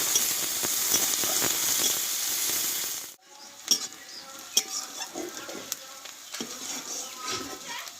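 Onion frying in hot oil after a tempering, for a jackfruit curry: a steady loud sizzle that cuts off sharply near three seconds, then softer frying crackle with scattered stirring clinks of a spoon against the pan.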